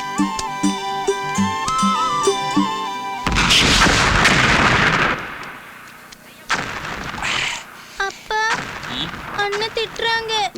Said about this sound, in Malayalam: നീ എന്തിനടാ ഈ കതിനാ വെടി കെട്ടിച്ചിരിക്കണം?